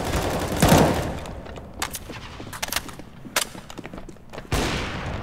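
Gunfire in Counter-Strike: GO, with bursts of shots and a few heavier cracks scattered across steady game background, some loud and close, others lighter, with no talking.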